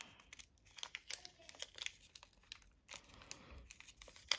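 Crinkly plastic or card packaging being cut and torn to free a round palette insert, giving scattered close crumpling and snipping bursts at a quiet level with no talk.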